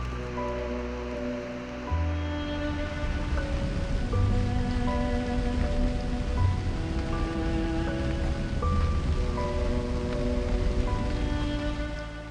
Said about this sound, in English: the rain started to pick up again